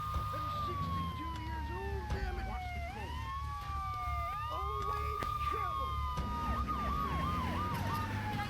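Police car sirens wail and sweep up and down in Grand Theft Auto 3 as several overlapping sirens chase over steady game engine and traffic noise, with someone talking at times.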